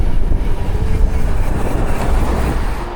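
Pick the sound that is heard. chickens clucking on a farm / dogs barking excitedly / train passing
train passing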